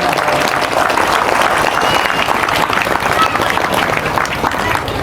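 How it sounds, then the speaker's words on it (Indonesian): An audience applauds for santri at an Islamic religious gathering, with dense, loud, sustained clapping from a large crowd that fills the whole stretch. "Tepuk tangan untuk santri."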